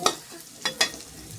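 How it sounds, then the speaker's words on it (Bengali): Eggplant frying in oil in a pan gives a soft sizzle broken by a few short scrapes of stirring, quiet and brief. "আমি বেগুনটা তেলের ওপরে দিয়ে নিচ্ছি। এটা হালকা ভাজা হতে থাক"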